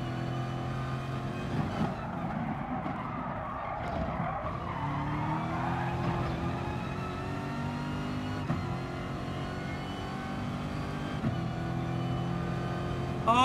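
Race car in GT Sport losing traction, its engine droning and shifting pitch while tires squeal and skid, loud and close with brief sharper clicks and no talk.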